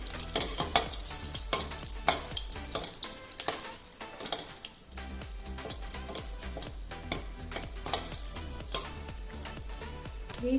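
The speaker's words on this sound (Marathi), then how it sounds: "त्यामध्ये आपण खडे मसाले घालूया आणि हे परतून घेऊया" Whole spices sauté in hot oil in a pan, a continuous close sizzle broken by frequent scraping stirs and clinks of the spoon against the pan, with no voices.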